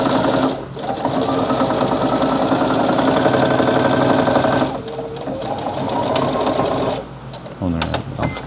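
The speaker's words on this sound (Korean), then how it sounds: "오늘 이제 미싱 소리 들어보니까 미싱 청소는 해야 될 것 같아요" A sewing machine stitches an apron in a steady, loud mechanical whir with rapid rhythmic clatter, pausing briefly twice before starting again, while a person talks over it.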